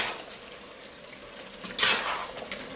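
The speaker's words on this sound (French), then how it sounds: "On va mélanger." Chili con carne with beans is stirred in a pan, a soft simmering sizzle under faint scraping, then a louder scrape and clatter of the spoon near the end.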